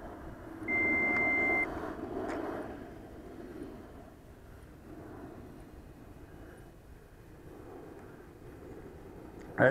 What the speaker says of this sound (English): That beep you hear every now and then is a countdown on the TX. Beeps every minute.